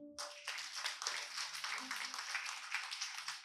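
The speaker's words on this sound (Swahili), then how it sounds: "Jipe Yesu makofi" A church congregation clapping for Jesus during a service: dense, continuous applause that starts abruptly and keeps an even, lively rhythm, preceded by a brief murmur.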